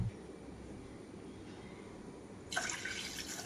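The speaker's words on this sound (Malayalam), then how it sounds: "ഒരു ഗ്ലാസ് പാൽ ഒഴിച്ച് കൊടുക്കുന്നുണ്ട്" After a quiet stretch, a soft, hissing stream of milk starts pouring into a pot for tea and continues steadily.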